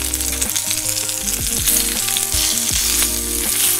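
Chicken drumsticks sear skin-side down in a little olive oil in a frying pan over medium heat, producing a loud, dense, continuous sizzle and spatter over soft background music.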